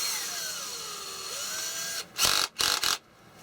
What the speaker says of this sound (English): one thing we need is the drill.